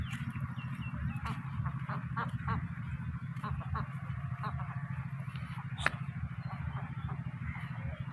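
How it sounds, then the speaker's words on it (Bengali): A group of ducks quacks and honks intermittently in a watery village setting, fairly faint and at mid distance, over a low steady background rumble. "এই যে হাঁসগুলো দেখছো"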